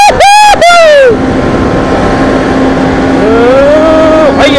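A Kawasaki Z750 motorcycle engine revs loudly up close, its pitch climbing and falling in two sharp bursts, with a steady riding rumble and rising whine in between.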